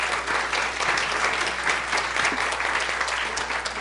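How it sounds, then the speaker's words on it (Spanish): Audience applause for a doctor after a conference talk, a dense, steady wash of clapping from a room of listeners, sustained at even loudness throughout. "pues le damos un aplauso a la doctora."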